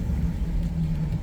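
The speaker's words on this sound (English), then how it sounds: "you can hear that gearbox is really noisy" Old 1983 Nissan Patrol barn find with a noisy gearbox, running roughly after years in storage: a continuous low mechanical rumble and drone, close and steady, with no talk.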